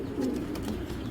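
A racing pigeon kept for pairing gives a brief, low, throaty coo up close, alone in a quiet loft.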